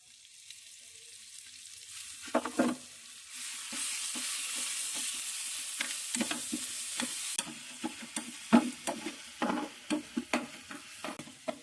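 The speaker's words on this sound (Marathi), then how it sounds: "आता आपण वाटलेली मिरची आपण टाकूया त्यात" Ground chili hits hot oil in a pan for a vada pav tempering, bursting into a loud, steady sizzle that rises midway and then eases, with repeated sharp scrapes and taps of a spoon stirring through it.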